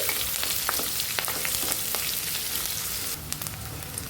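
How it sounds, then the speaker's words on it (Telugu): Onions and curry leaves frying in a pan with oil, giving a steady close sizzle that carries through, with occasional stirring clicks and crackles and no talking. "ఇప్పుడు ఉల్లిపాయల్ని మంచి కలర్ వచ్చేంత వరకు ఫ్రై చేసుకోవాలి"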